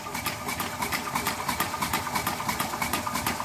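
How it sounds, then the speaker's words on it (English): An old lathe motor whirs and runs up to speed, a steady close mechanical drone with a regular rapid pulsing beat and no voices. "you have to let the old lathe speed up a bit"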